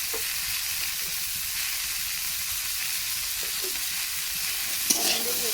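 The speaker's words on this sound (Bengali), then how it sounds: "এটা একটু ভালো করে ভেজে নেব" Papaya and shrimp legs fry in a pan for a Bengali curry, producing a steady, even hiss of sizzling oil with a single clink near the end and no speech.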